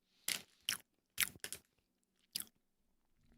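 Crunchy ginger-flavoured snack being bitten and chewed close up, six sharp crisp crunches spaced irregularly with quiet pauses between, no talking.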